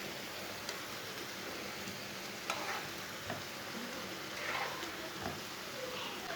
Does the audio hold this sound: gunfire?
no